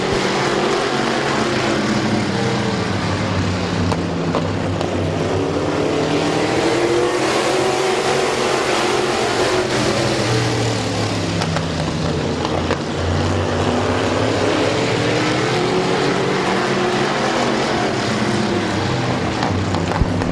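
Race cars at Midvale Speedway roar continuously through a lap, engines droning loud and steady with pitch rising and falling as the pack sweeps past and into a turn, an announcer's voice faintly underneath.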